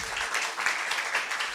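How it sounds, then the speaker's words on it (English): A crowd at a school debating competition claps in a brief, dense burst of applause, close and steady throughout. "Let's give Mike a round of applause."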